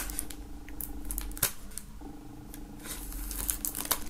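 A CD album is unwrapped from its plastic foil: close, crisp crinkling and tearing in irregular bursts, with a sharp rip near the middle and more rustling toward the end, no speech.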